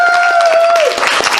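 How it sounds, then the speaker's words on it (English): A short burst of loud applause from an audience, with a sustained tone sounding over the clapping. "a huge round of applause for Dragor"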